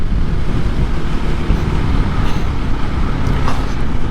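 A 2024 KTM EXC-F 500 Six Days dual sport motorcycle engine drones steadily while riding, its broad, even roar mixed with heavy wind rush across the whole stretch.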